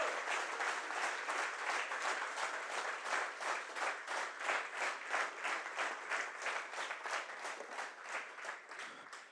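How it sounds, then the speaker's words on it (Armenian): Sustained applause from an audience at a political party's program presentation in Armenia: many hands clapping steadily at moderate distance, a dense rhythmic patter that holds for the whole stretch and tapers slightly near the end, with no voices over it. "մեր ծափարություններով հիմա կողջունենք հայ առաքելական եկեղեցուն"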